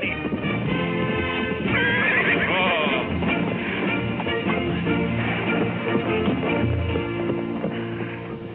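A horse neighs and whinnies loudly amid hoofbeats and commotion in a horse-racing drama scene, with the loud, full sound running throughout.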